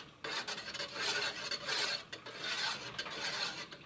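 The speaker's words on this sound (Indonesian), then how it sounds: "Sambil terus diaduk" A spoon scrapes and stirs cheese porridge thickening in a pot over medium heat, giving steady rasping strokes in a repeated rhythm, close and fairly quiet, with no talking.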